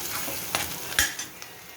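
Onion is sautéed in a pan, a low steady sizzle with a couple of short scraping stirs and a faint clink, close by and with no voices.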